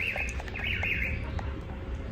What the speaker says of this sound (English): The sound of them birds.